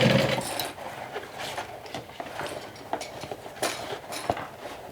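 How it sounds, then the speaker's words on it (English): A domestic sewing machine runs slowly through many layers of top stitching, its needle thumping in uneven, spaced taps with mechanical clatter, close by and moderately loud. "this is something you want to do very slowly on a domestic sewing machine"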